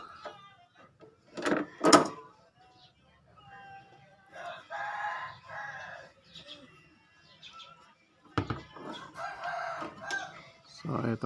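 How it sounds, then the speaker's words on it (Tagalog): A rooster crows twice in a quiet space where an old washing machine spin motor is being replaced, sharp loud calls near the start amid scattered clucks and faint household noises. "Ay, may manok."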